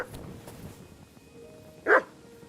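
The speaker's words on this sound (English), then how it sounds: "That's a dog." A single dog bark in the medieval video game Kingdom Come Deliverance II, one short loud yelp standing out over a faint, quiet ambient background.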